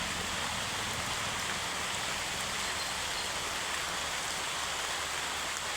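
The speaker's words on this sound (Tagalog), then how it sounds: "Malakas pa yung ulan." Steady, dense rain pours down in a continuous roar, heavy and close, with no other sounds breaking through.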